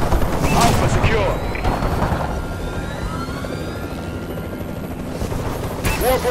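In a shooter video game, a Warbird killstreak aircraft passes overhead with a throbbing, rotor-like drone. Announcer voices and bursts of distant gunfire and booms are mixed in.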